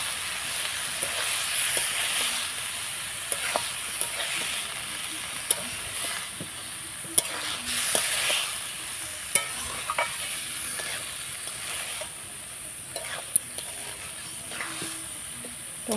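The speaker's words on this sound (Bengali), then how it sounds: "এবার সবগুলো ভালো করে কষিয়ে নেব।" Boiled banana flower and potatoes are sautéed in a pan with a steady, moderate sizzle. Scattered sharp clicks and scrapes from stirring come through across the whole stretch.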